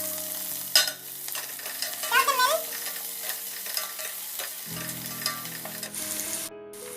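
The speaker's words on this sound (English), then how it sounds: "Now I'll add the sliced onions." Sliced onions fry in a pan with a steady sizzle and crackle, interrupted by stirring scrapes and a couple of brief clinks, with no voices.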